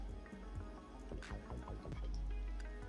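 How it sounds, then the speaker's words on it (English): Brine shrimp tipped into a blackwater aquarium give soft drips, splashes and wet squishy sounds, close and fairly quiet, spread through the clip with faint background noise. "Throw a little bit of brine in here."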